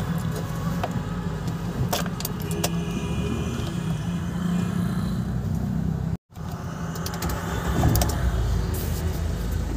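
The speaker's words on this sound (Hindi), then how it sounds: "तो ये गाड़ी को अभी हमने स्टार्ट कर लिया है" A Mahindra Scorpio engine starts and then idles with a steady rumble, with a short dropout partway through and some metallic jangling early on. No one speaks.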